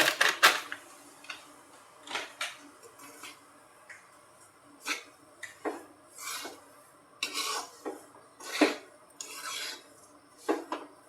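Grated coconut being stirred and roasted in a pan for karanji filling: intermittent scraping and clinking strokes of a spoon against the pan, close and moderately quiet, spaced irregularly with pauses.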